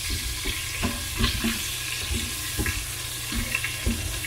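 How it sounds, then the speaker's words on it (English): Melted butter sizzles in the bottom of an Instant Pot while a utensil scrapes and clicks against the pot, sounding close and steady with repeated scrapes over a constant frying hiss. "we're going to scrape a lot of the kind of deglaze the pot"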